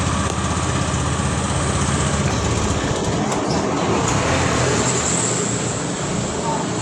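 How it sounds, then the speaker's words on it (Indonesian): A motorcycle engine, on a scooter that had trouble starting when cold, running steadily after the electric starter, giving a loud continuous droning rumble throughout. "Sekarang kita starter. Ya, kita starter ya."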